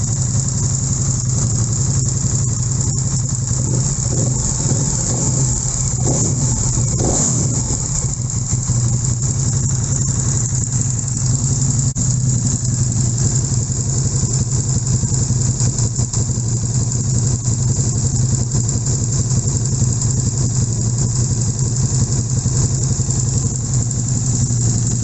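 A KTM 1290 Super Duke with a freshly refitted radiator idles steadily nearby, a constant low engine drone that holds unchanged throughout with no talking.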